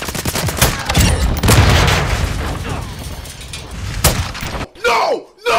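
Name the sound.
gunfire in video game Call of Duty Modern Warfare 2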